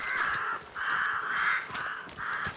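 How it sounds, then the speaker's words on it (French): Crows in the Hunt: Showdown video game caw in four loud, harsh, drawn-out bursts close by, with brief gaps between them. "Dégagez les corbeaux là."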